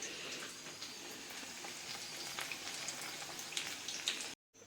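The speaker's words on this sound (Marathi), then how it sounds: "थोड्याशा तेलामध्ये एक पीस फ्राय करून घेते." Fish pieces frying in a little oil in a pan, a steady close crackling sizzle with scattered pops, moderately quiet and continuous, ending abruptly.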